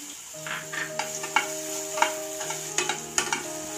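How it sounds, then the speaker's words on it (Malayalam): Cut apple pieces sauté in a pan for a Kerala-style apple pola, a steady close sizzle punctuated by regular sharp clicks and scrapes of a utensil stirring against the pan. "കട്ട് ചെയ്ത് വെച്ച ആപ്പിളും കൂടെ നമുക്കിതിലൊന്ന് വഴറ്റിയെടുക്കണം"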